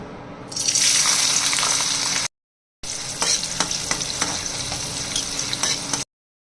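Chopped onions drop into hot oil in a wok and burst into a loud, hissing sizzle that keeps crackling steadily, broken by two abrupt silent gaps.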